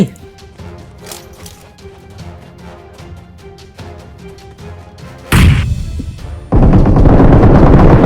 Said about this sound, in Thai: โอเคหย่อนระเบิดไป